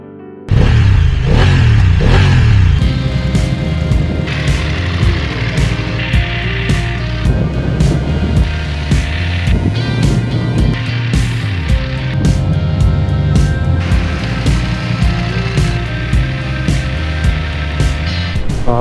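BMW F900R super naked motorbike engine revving and accelerating hard on the road, a loud, continuous mid-pitched engine note that climbs and falls through gear changes for nearly twenty seconds, with no talk.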